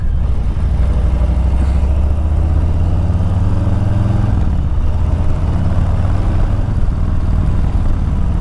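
Harley-Davidson Street Bob 114, a 2021 model, runs with a steady, loud, deep exhaust rumble from its pipes, holding a low idle-like throb with a slight dip in pitch midway, nearby and alone.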